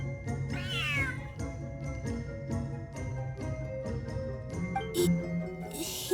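A cat in Genshin Impact gives a few clear meows, one near the start and others later, over soft game music and faint ambient sounds.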